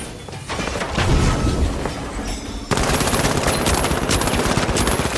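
Continuous rapid machine-gun fire in the game The Finals, loud and close, growing denser and louder midway through and rattling on without pause.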